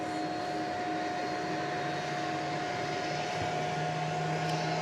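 Steady engine drone from a Boeing 767 airliner, about two and a half years old, operating as flight 793 to Louisville at DFW Airport at night, a continuous whine and rumble holding level with a faint tonal hum throughout.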